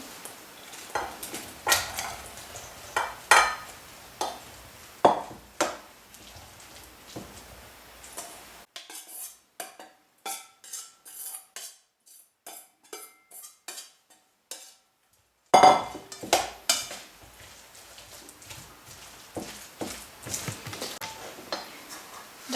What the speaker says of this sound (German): Dann geben wir zu der Teigmasse das Gemüse hinzu.